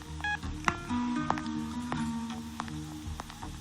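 A telephone is dialed in a film scene: a quick run of short keypad beeps over a low background hum, close and clear, with no talk.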